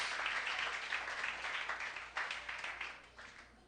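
Church congregation clapping for God during a Spanish-language evangelical broadcast, a dense, steady round of applause at moderate distance, slowly thinning toward the end.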